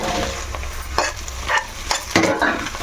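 Okra added to a pan and stir-fried for a tomato okra stew, with close, loud stirring scrapes and clatters over a continuous sizzle and no voices.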